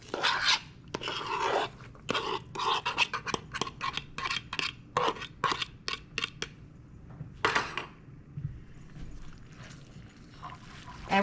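Chinese chicken spaghetti is stirred and scraped around a hot pan, producing quick, irregular bursts of clattering and rasping, loud and close, with short pauses between strokes.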